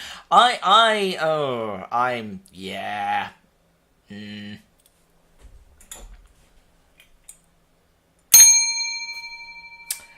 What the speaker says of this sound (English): Failure bell.